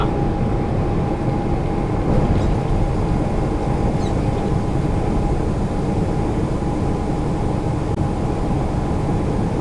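A Delta Boeing 737 airliner on approach into LAX produces a continuous loud roar that holds steady throughout, with a faint tonal whine layered over the broad rumble.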